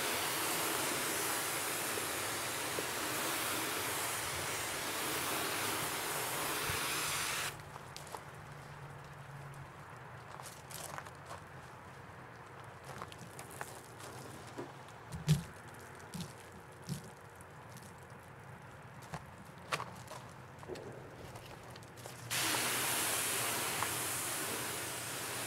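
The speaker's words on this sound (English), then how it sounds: "Okay, let's rinse." A car test panel coated with Turtle Wax Hybrid Solutions ceramic polish and wax is rinsed with water: a steady, loud hiss of spray runs for several seconds, stops for a stretch of scattered small drips and knocks, then resumes.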